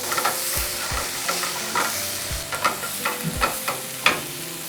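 Grated onions frying in hot butter in a pan while being stirred, with a steady low sizzle under repeated close scraping and clinking of a spoon against the pan.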